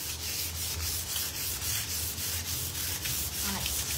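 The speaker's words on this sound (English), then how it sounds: "You can see how much that's pushing the oil into the timber as well." Hemp finishing oil being rubbed into timber with a cloth or pad, a continuous close scrubbing sound in regular back-and-forth strokes, steady and fairly loud throughout.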